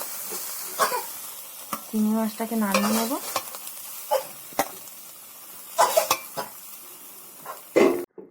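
Prawns fry in a wok and are stirred with a spatula, giving a soft sizzle under repeated sharp scraping and clinking against the pan, while someone speaks intermittently.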